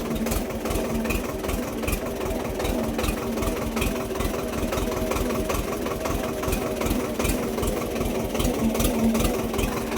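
A tractor engine runs steadily close by in thick mud, a low rhythmic diesel chugging that continues without pause throughout.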